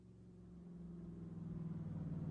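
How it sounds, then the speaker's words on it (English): A car approaching a house and arriving, heard as a low engine rumble that swells steadily louder from faint to close, with no voices. "That's the car."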